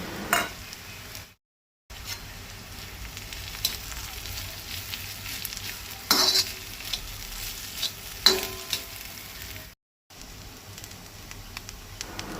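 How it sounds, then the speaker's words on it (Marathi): Grated coconut roasting in a pan for Goan aavkuar tonak, a steady soft sizzle and crackle broken by scraping stirs, with a few brief silent gaps. "जाली ती सोय खरपूस भाजून."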